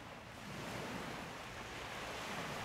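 Sea waves wash onto the shore in a steady, hissing surge, with wind buffeting the microphone, a continuous broad roar that swells slightly after the first half second with no voices.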